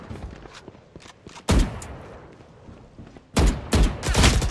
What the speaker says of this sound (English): I shot my wingman.